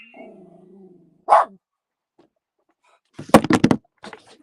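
A dog at home near a puzzle table gives a short low growl, then after a pause a loud burst of several rapid barks close by, followed by a faint last yip.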